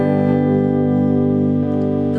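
Gibson SG Standard electric guitar with both pickups selected, volumes near 6 and tones on 3, ringing out a sustained chord that holds steady and loud throughout, with a slight fresh attack near the end.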